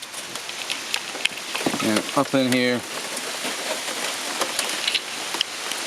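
Steady rain patters outdoors beside a Kubota X900 RTV utility vehicle, a soft continuous hiss across the whole stretch, with someone briefly speaking over it partway through.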